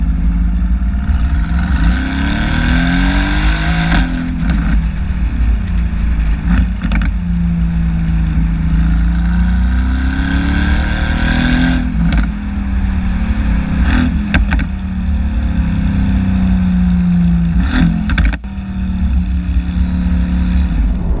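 Mercedes-AMG GT S with a twin-turbo V8 and aluminium space-frame chassis driving in comfort mode, a loud steady engine drone heard from inside the car with rising and falling revs and no talk.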